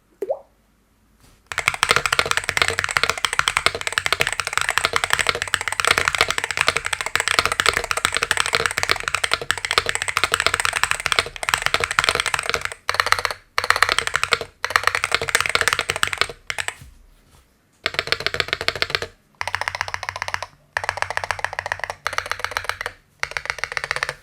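Steady typing on a gaming keyboard, a fast continuous clatter of keystrokes with a rattly spacebar, close and loud, with brief pauses near the end.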